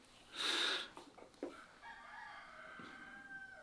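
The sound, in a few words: rooster crowing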